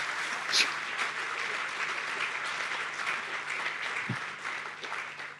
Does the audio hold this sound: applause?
yes